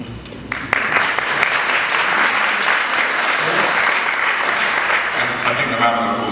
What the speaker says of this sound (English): I think the round of applause answered your question more concisely than any of us